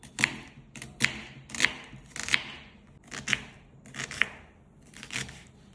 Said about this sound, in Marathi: कांदा मीडियम बारीक एकसारखा साधारण चिरून घ्यावा